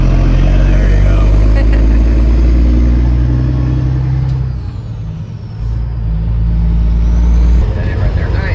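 A 6.0 engine idling steadily and loudly up close, its deep continuous rumble broken by a brief dip in level midway, with someone talking over it.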